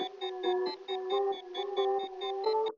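Layered trap synth melody built with the Helix VST, high, mid and low parts playing together as a short, bright, repeating pattern of plucked notes, alone and clear.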